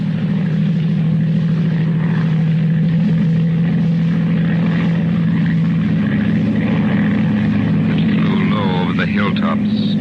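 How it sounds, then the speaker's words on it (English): A monoplane drones steadily overhead as a radio drama sound effect in a 1938 Mercury Theatre broadcast, a continuous loud propeller engine hum holding throughout, with faint other sounds near the end. "Low down in the south, a monoplane was climbing into the heavens."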